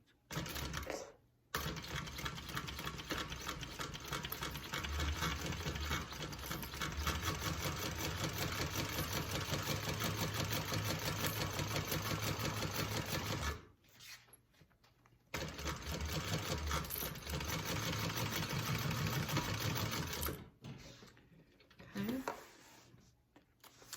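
A home sewing machine stitches a 1/2 inch seam allowance at a shortened stitch length, a steady rapid whirring run lasting over ten seconds, with a brief stop and a second long burst, and a softer stretch at the end.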